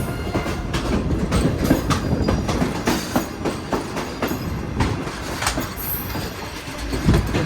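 A desert safari passenger train clatters steadily over the rails, with dense, continuous clickety-clack wheel rhythm and rumbling carriage noise throughout, loud and close as if heard from inside the coach.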